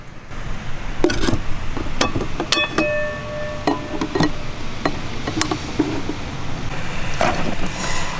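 Pots and pans clink and knock while cooking inside a van, with scattered sharp metallic taps and one brief ringing tone over a steady low background hiss.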